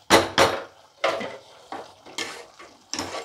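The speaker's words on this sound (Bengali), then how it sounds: "ঢাকা দিয়ে দিলাম।" A lid set onto a pot of potol posto, the Bengali potato and pointed gourd dish in poppy seed paste, producing a series of close metallic clanks and rattles, with two loud knocks first and lighter taps after.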